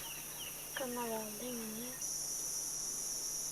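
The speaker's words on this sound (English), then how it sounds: "I'm amazed at how loud the insects are" Insects drone in a hot, humid jungle in Kibale National Park, Uganda, a steady high-pitched buzzing that swells partway through, with a brief bird-like call sliding through the middle.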